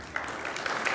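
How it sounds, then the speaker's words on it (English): Audience applause fills the room, a steady dense wash of clapping with no voices over it. "Not too much applause, it only encourages them."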